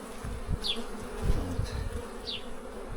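Honeybees buzz around opened hive frames, a dense steady hum with a few individual bees zipping close past, heard alone without talk.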